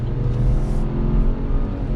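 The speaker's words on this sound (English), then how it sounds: "Pulling out on the side street, back on throttle." A 2021 Chevrolet Trailblazer LT small crossover SUV accelerating after pulling out onto a side street, a steady low engine drone with road hum heard from inside the cabin.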